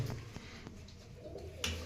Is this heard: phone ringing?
no